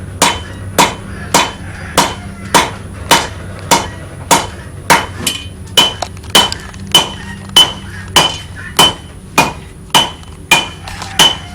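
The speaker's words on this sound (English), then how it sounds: "I'm just going to hammer this kind of thin." Steady metallic hammer blows on hot steel being forged thin into a fire poker, about twenty sharp strikes at an even, brisk pace, loud and close with no talking.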